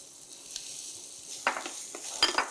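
Chopped onion sizzles in hot olive oil with potatoes, a soft steady hiss broken by a few clinks and scrapes of a utensil stirring the pan.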